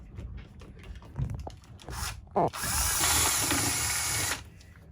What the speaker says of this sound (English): I'm just cleaning out this little screw hole so I can get to this screw in here